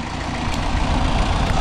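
A tractor that has been raking hay sits idling, a steady low diesel rumble that holds even and close without any change in pace or any voices.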